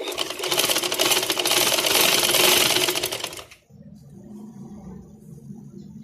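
A sewing machine runs in a loud steady whirring burst as it stitches lace onto a garment neckline, then stops abruptly, leaving quieter background sound and faint handling.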